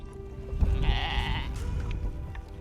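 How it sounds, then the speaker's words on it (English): North Ronaldsay sheep, a seaweed-eating breed on a remote island, bleat in their pens; one clear drawn-out bleat rises over a steady low murmur of the flock and outdoor noise. "Our sheep are such a unique breed."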